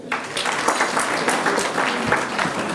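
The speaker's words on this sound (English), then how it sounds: "A clap for Fred." A crowd at a Nairobi marketers' evening applauds steadily, many hands clapping in a dense, continuous patter that holds at an even level throughout.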